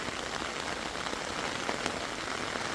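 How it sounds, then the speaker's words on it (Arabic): Rain falls steadily during a strong storm in an orange grove at harvest, a soft, even patter of drops on leaves and surfaces, fairly faint and continuous with no voices. "شوفوا الشتا، شوفوا تبارك الله."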